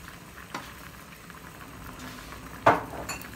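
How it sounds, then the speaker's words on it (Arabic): Rice boiling in a pot on the stove, giving a low, steady bubbling hiss with one sharp metallic clink near the end. "اهو هيغلي بقى كام غلوه كده ونهدي عليه خالص"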